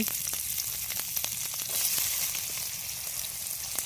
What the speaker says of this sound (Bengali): এবার আমি পেঁয়াজটা ভেজে নিচ্ছি